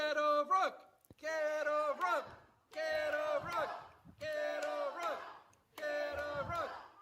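A father bellows at a wrestling match to rouse the crowd: five long, loud shouted chants in a regular rhythm, each separated by a short pause.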